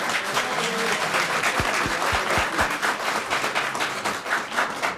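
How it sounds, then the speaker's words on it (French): Rugby crowd at a French championship final applauding a try, a broad, sustained wave of clapping from a large stadium crowd with a few low thumps partway through. "On peut applaudir encore cet essai d'ailleurs."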